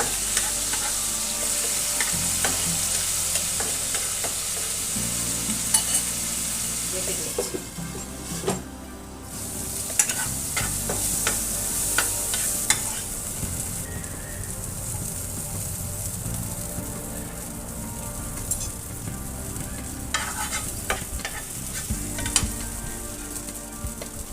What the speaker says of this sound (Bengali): নেড়ে নেড়ে দিয়ে দিচ্ছি সামান্য একটু জলে ছিটে দিচ্ছি